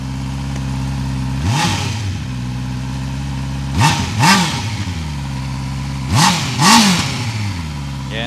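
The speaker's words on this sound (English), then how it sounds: "So we can see if we can hear the exhaust note." A 2023 Honda CB650R motorcycle with stock exhaust idles with a steady, throaty exhaust, then is revved three times in short, rising bursts before dropping back to idle.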